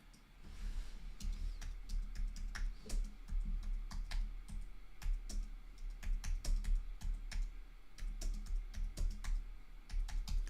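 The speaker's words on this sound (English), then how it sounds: "I'm just typing this out, folks" Fast, steady clatter of a computer keyboard being typed on up close, dense key taps running continuously with a faint background hum.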